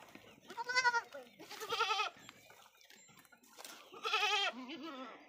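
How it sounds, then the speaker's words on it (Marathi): A blind goat bleats several times on a farm, each call a loud wavering cry about a second long, with quieter rustling between them; no one speaks. "हे बघा ती खायली ही शेळी"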